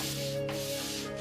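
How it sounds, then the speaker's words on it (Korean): Sandpaper rubs across the face of a wooden printing block, a faint continuous scraping swish with a brief stroke change midway, over a steady background hum. "여기에 사포로 마감 손질을 해서 판면을 부드럽게 하니"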